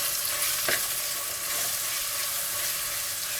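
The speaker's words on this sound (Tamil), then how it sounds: "இப்போ நம்ம வெங்காயம் 1 2 உடச்சி வச்சுருக்கோம் இல்லைங்களா, அதை சேர்த்துக்கலாம். நல்லா வதக்கிக்கலாம்." Onions sauté in hot oil for a mutton curry, giving a continuous, close, dense sizzle with one brief stirring burst early on and no voices.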